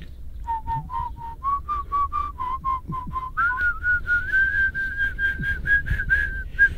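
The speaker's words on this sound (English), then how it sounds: "Let's all try and whistle it" Whistling a simple tune, a series of short rising notes and then longer held ones, clear and close over faint room noise.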